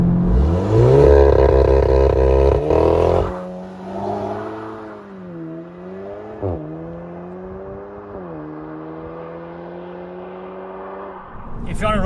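A VW Golf GTI TCR with a 290 hp engine launches hard from a standstill on a road, revving loudly before settling into a steady rising drone as it accelerates through the gears, with a brief shift blip.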